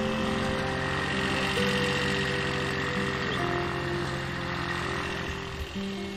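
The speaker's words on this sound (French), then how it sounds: "Oh là là, il y a le tracteur" Tractor engine running steadily nearby in a rural setting, a continuous droning hum with a low mechanical rumble and vibration that holds at a constant, moderate loudness throughout.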